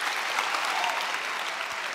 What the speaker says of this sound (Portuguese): Uma salva de palmas para Carol.